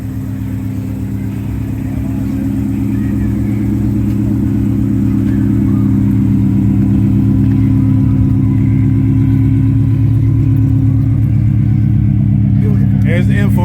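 A 1993 Ford Mustang Cobra with a GT500 motor idles loud and close with a deep, steady rumble that builds slightly over time, while people talk over it.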